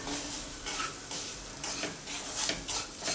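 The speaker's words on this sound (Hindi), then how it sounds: "हमने सूजी को अच्छे से भून लिया है घी में।" Coarse semolina roasts in ghee over low flame, stirred in repeated scraping strokes with a soft sizzle underneath, close and moderately loud, with no voices.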